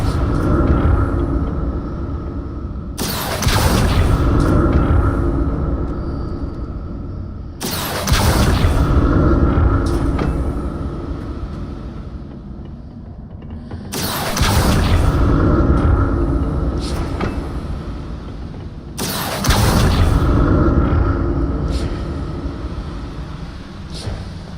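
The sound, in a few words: stone platform moving across bridge in Hogwarts Legacy video game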